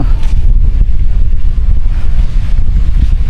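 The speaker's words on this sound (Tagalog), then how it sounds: "Dito po ay sobrang mahangin." Strong wind roars steadily into the microphone, a constant low buffeting rumble with no pauses throughout.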